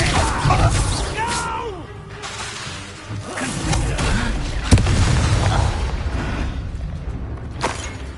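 A Confringo spell goes off in Hogwarts Legacy as a loud boom with a whooshing burst, followed by a sharp crack midway and another smaller burst near the end, over a rumbling battle background.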